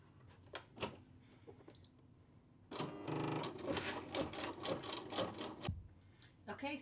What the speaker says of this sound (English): So I'm going to start by stitching out the first run of stitching on the stabilizer